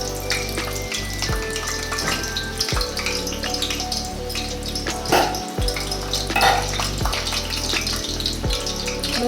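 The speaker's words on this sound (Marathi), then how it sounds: "चला आता आपण हे तेल तापत ठेवलं आहे। याच्यामध्ये सर्वात आधी आपण लसूण टाकणार आहोत।" Garlic dropped into hot oil for a karela dish, a steady wet crackling sizzle that stays loud and dense throughout, with occasional brighter pops and spatters close up, no voices.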